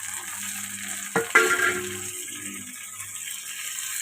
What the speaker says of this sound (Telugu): కరివేపాకు వేగాలి ఇట్లా ఉన్నప్పుడు టమాటోస్ వేసుకుందాం